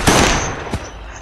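A gun fires in the video game Last Days On Earth, a sharp loud blast that rings out and decays, followed by a second quieter shot a moment later.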